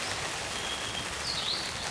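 Steady rain hisses down at a forest campsite 500 metres up near Pocheon, a dense, even patter close around, with a faint bird call briefly audible through it.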